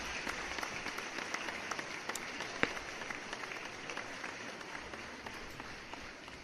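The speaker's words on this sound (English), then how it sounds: "let me give you an applause again" Applause from an online audience at a livestream back in Thailand, a faint, steady patter of clapping with a few sharper claps, quiet and distant throughout with no voices.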